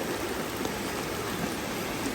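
Heavy rain falling steadily over several days in the Philippines, a dense, continuous hiss of downpour with no pauses, fairly quiet and even throughout with no voices.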